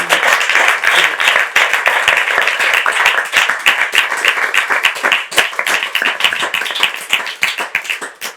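An audience claps loudly and steadily, a dense crowd of close hand claps sustained throughout before thinning slightly at the end.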